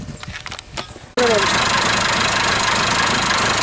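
After a second of quieter clatter, a Perkins 236 diesel engine with a CAV injection pump abruptly catches and settles into a loud, steady, rumbling run close by.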